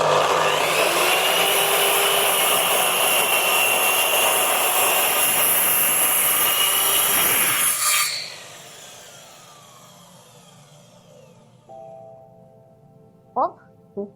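A hand saw rasps through wood during a frame house build, loud continuous back-and-forth cutting for about eight seconds, then stops, leaving quiet handling clatter and a couple of brief knocks.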